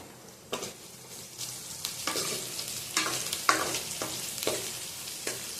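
Two green chillies sizzle as they are sautéed in a pan for a Jilebi fish curry, a quiet steady frying hiss broken by repeated sharp scrapes and stirs of a spoon roughly every second.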